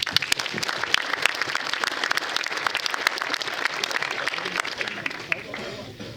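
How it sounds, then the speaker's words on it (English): Audience clapping in a banquet hall at a baseball hall of fame induction ceremony, a steady round of applause from a seated crowd with a voice speaking over it. "Let's give him a round of applause."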